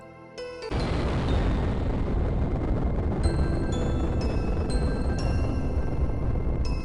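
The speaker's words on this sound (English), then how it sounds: "Now that's an explosion." An explosion in Old School RuneScape hits with a sudden loud blast and settles into a sustained roaring rumble, with bright chiming game tones ringing over it.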